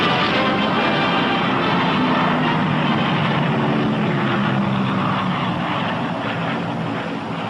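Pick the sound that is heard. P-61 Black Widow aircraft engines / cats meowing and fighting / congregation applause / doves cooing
P-61 Black Widow aircraft engines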